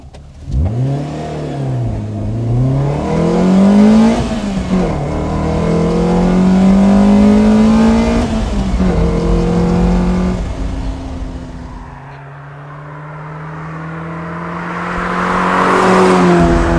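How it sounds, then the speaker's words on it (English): A Lotus Elise S1 engine with a modified intake revs repeatedly, pitch climbing and falling through several gears with a throaty, aggressive tone, close and loud with no voices. "It's got a different intake, this one, so you really get the most out of that engine sound."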